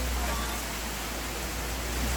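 Heavy rain pours steadily on a mountainside near Mon Chaem in Chiang Mai, a dense, continuous hiss with no breaks, close and enveloping.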